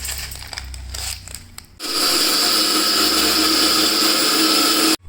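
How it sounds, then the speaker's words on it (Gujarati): A kitchen mixer grinder whirs loudly as it pulverizes ganthiya and fried moong dal into powder. It starts after some rattling and handling, then roars at a steady high pitch for about three seconds before cutting off abruptly. "અને આમનો ભૂકો છે ને એ મિક્સરમાં કરી નાખીશું"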